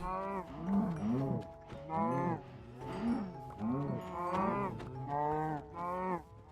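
Cows mooing in the Minecraft video game, a run of about six drawn-out, wavering moos following one another steadily at moderate loudness, with no talk over them.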